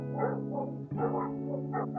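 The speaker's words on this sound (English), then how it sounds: "Those are the neighbor's dogs." Neighbouring dogs bark in a couple of muffled, tonal bursts, heard indoors at a distance beneath a steady background drone, with no talk over them.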